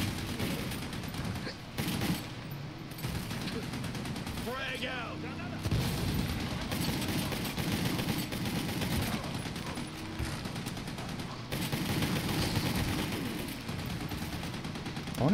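Enemy machine gun fire in the shooter game Army of Two: The Devil's Cartel: dense, continuous rattling bursts and booming gunfire fill the whole stretch, with explosions mixed in and a loud battle din throughout.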